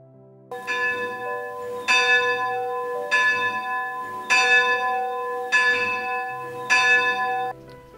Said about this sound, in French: je ne peux résister au plaisir de vous faire entendre le son de la cloche de la chapelle